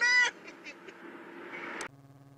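Wild turkeys outside give several honking, gobbling calls in short bursts, fairly clear, followed by a faint lower tone.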